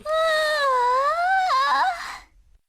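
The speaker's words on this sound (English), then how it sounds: "My yawn spread from one person to the next." A female character in the Ever17 visual novel gives a long, voiced yawn that wavers up and down in pitch and trails off at the end, heard close and alone.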